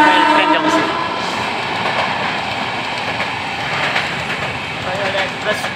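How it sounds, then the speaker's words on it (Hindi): An express train passes near a bridge, opening with a loud horn blast that gives way to a steady, close rumble of rolling cars, with voices faintly underneath. "एक्सप्रेस ट्रेन जाऊँ"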